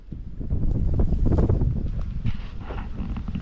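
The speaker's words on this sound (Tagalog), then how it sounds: "Medyo mahangin po pa man din ngayon." Wind buffets the microphone in low rumbling gusts outdoors beside a bamboo-burning fire, loudest early on and easing slightly toward the end, with no speech.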